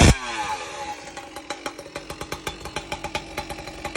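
A Stihl MS661 chainsaw with a piped exhaust and a race chain bursts loudly at first, then settles into a rapid, steady train of sharp engine pulses, close by and heard alone.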